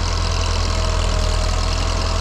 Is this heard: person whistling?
no